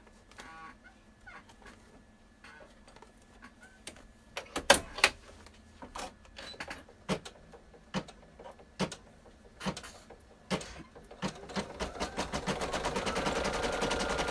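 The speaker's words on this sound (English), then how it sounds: "it's going to stitch just a little oval skin color face right on top of that white felt" An embroidery machine stitches a small oval skin-colored face onto white felt, a rapid series of sharp mechanical clacks and thumps in irregular bursts, ending in a louder, steadier whirring run.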